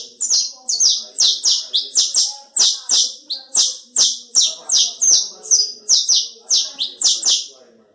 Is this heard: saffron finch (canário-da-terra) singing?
yes